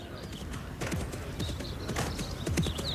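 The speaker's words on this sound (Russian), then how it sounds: "Лошадь скачет." Horse hooves clip-clop in a steady rhythm at moderate distance, with faint birdsong and background noise throughout; no clear speech.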